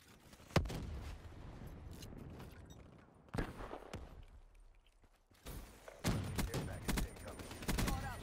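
Scattered gunshots in Call of Duty Black Ops III multiplayer: a sharp single shot early on, then a second report and several bursts of fire at varying distance in the later half, mixed with thuds and game effects.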